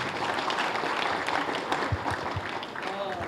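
Audience applause at a Telugu theatre play performance in Khammam, a dense, steady wash of clapping from a crowd lasting the whole few seconds at an even level.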